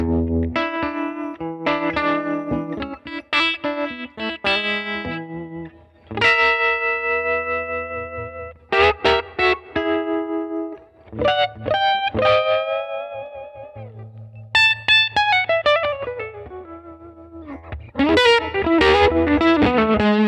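Electric guitar through a Goodsell Unibox amp with reverb cranked up, plucked notes and chords ringing out with a deep swampy wash of reverb and slight grit, alone and fairly loud.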